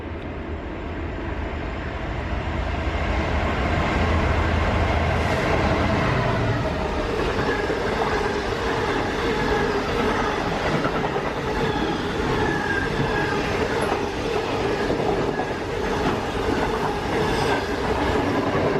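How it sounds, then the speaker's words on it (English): A Vivarail train on the Bedford line rumbles past steadily and loudly, wheels clattering and faintly squealing on the rails for the whole stretch. "So here's the next train for you."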